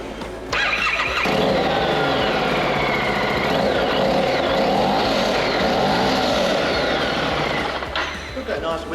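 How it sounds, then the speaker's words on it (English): A stock-exhaust Harley-Davidson cruiser starts and holds a loud, close, steady engine note for about seven seconds with rising and falling revs, then cuts off sharply. "Stock exhaust on this Harley, yeah?"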